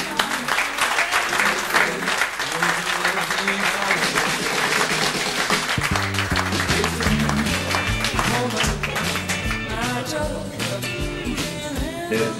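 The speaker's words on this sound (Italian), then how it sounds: "facciamo veramente adesso dei grossi applausi perché se lo meritano veramente" Sustained crowd applause at a historic car rally event, dense and steady, with music playing along underneath throughout.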